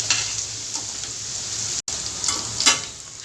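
Onion, green chili and curry leaves crackling in hot oil in a pan, a steady close sizzle with small pops and a brief stir, no voices.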